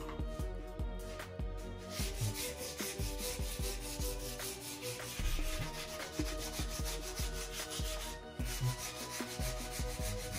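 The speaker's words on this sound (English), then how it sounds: "time for finishing, but first we're going to have to endure some sanding." Wood for a slingshot-style arrow magazine sanded by hand with 220 grit sandpaper: repeated rhythmic rubbing strokes, close and fairly loud, with brief pauses between passes.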